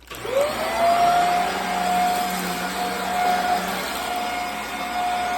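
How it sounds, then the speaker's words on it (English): A Hoover vacuum cleaner with a worn-out motor and a half-working brush roller runs loudly and close, its high whining tone wavering and dipping over a rough, steady rush of airflow. "how does this Hoover sound with a shot motor and a brush roller that half works?"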